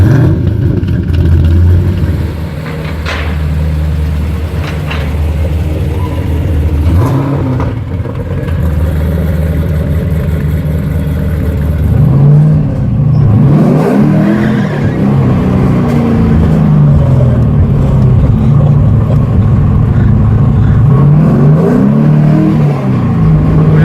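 A 2018 Subaru BRZ Brill Steel drifting, its engine droning and revving steadily up and down at close range for the full stretch, with a sharper rise in pitch and load about midway through; no one speaks.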